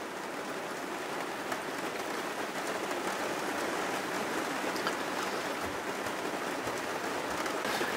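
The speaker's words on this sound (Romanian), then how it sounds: "Uite așa, așa o ține toată ziua. Plouă, plouă, plouă." Rain falling outside a caravan, a steady hissing patter with occasional heavier drops striking a surface, continuous and even throughout.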